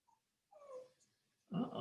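A dog whimpers faintly indoors during a math lecture, two short high whines in near silence followed by a louder snuffling whine at the end.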